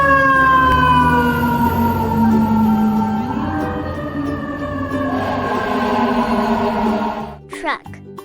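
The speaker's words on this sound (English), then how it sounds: "Fire truck." A fire truck siren wails loud and close in long, sliding tones that drop in pitch, then it cuts off abruptly with a few clattering noises.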